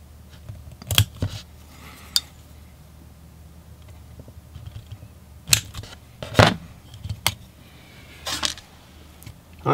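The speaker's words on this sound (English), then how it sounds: "I'm gonna have to cut this part here for it to clear the cable" Scissors cut through part of a GoPro Hero 7 Black plastic case to clear a cable, giving several sharp, close snips in irregular bursts with quiet pauses between.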